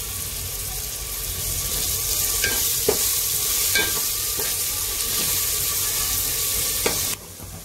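Loud, steady sizzle of a chicken masala mixture frying in a pan, with spatula stirring scrapes and clinks over the hiss; the frying cuts out abruptly near the end.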